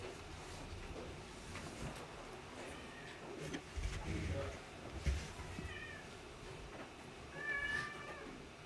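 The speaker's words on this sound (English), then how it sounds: "We also have background music by the house cat Buddy." House cat meowing faintly in a quiet room during a meditation gathering, a few soft tonal meows scattered over several seconds, with one clearer cry near the end amid low background noise and murmured talk.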